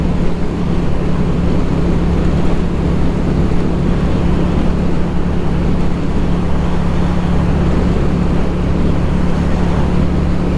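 A Lifan Lycan 250 motorcycle on a winter ride, a constant loud engine drone blended with heavy wind rush over the microphone, unbroken throughout with a steady low hum and no talking.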